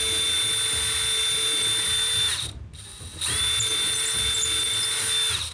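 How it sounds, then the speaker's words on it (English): A power drill runs steadily for about two seconds, stops briefly, then starts again and runs to the end, used to clean up the edges of a hole in an art project over paper. "And I like to just put my drill on there. And you want to run it."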